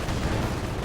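Twin ZiS artillery guns fire a barrage in a World War II strategy game, heard as a dense, continuous rumble of gunfire and blasts close by and fairly loud, with no clear gaps between the shots.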